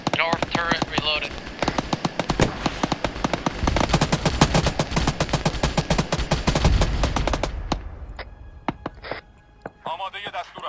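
Rapid automatic turret gunfire in the Arma 3 video game, a dense sustained burst of loud shots that runs for several seconds, then thins to scattered single cracks, with voices talking at the start and end.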